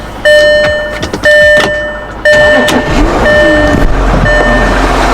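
A VW Touareg TDI diesel, just fitted with a new high-pressure fuel pump filter and primed, is cranked and started; loud repeated electronic warning chimes sound in even pulses over a close engine rumble that settles into a steady idle.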